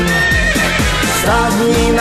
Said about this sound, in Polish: koń konia goni po zielonej łące